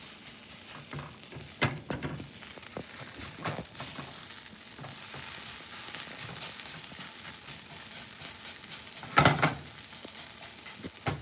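A hash brown sizzles and fries in a pan while it is turned over, producing a steady crackle broken by several scraping, clattering spatula knocks and one louder clatter near the end.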